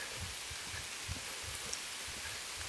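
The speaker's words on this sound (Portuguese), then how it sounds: "Correr que tá chovendo com força aqui" Heavy rain pours over a riverside spot on the Taquari River at Coxim, a dense, fairly quiet continuous wash of drops with faint low thumps and no voices.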